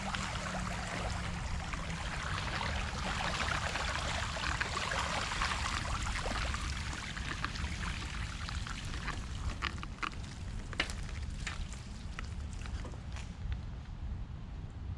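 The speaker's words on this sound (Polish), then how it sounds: "Woda z Grabiszynki prze dostaje się do Parku Grabiszyńskiego." A flooding stream pours over into a park in Wrocław during high water on the Ślęza river, giving a steady, moderately distant rushing of water that continues evenly for about fifteen seconds, with faint scattered splashes and no voices.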